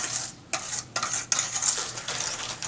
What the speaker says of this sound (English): So you just want to whisk out all the little clumps of the sugar.